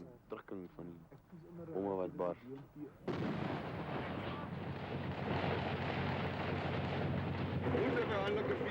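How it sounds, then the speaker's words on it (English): Explosions roar nearby in combat, a heavy continuous rumble of blasts and debris that swells after someone speaks briefly at the start. "It's exploding all around us."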